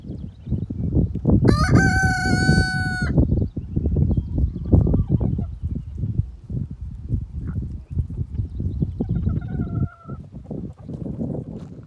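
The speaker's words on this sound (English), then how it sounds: "Morning, chickens. Come get some." A rooster crows loudly and close by on a farm, a single long call near the start, followed by chickens clucking and scattered farmyard noises and shuffling, with a softer crow later on.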